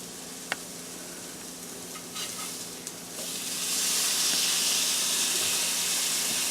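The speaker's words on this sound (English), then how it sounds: "So we're going to go ahead and flip our burgers again." Burger patties sizzling on a hot cooking surface, a steady hiss that swells louder after they are flipped, with a few faint clicks of the spatula early on.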